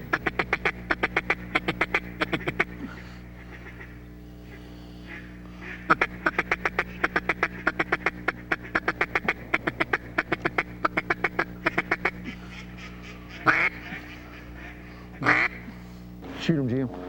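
Ducks quack in flooded woods, sounding in quick repeated bursts of nasal calls, close and clear, with pauses between runs and a few louder squawks near the end, while people murmur in the background.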